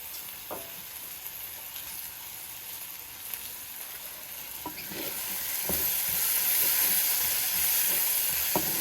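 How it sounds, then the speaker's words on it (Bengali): Whole spices such as bay leaf, cinnamon and cardamom sizzle in hot oil, a steady frying hiss that swells louder midway, broken by a few soft knocks of stirring. "গরম মশলা দিয়ে দিলাম তেজপাতা দালচিনি এলাচি"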